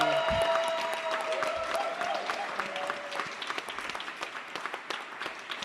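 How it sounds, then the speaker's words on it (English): A crowd applauding steadily, many hands clapping at moderate volume, gradually thinning into scattered claps. "Can we please take a round of applause to John too for making"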